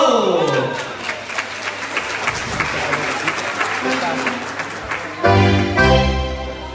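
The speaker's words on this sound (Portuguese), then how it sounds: "Salve de palmas aqui para o nosso Gonçalo!" A crowd applauds and cheers for Gonçalo at a live show in Luz de Tavira, Algarve, with clapping and voices building over music, then a louder burst of accordion-like tones near the end.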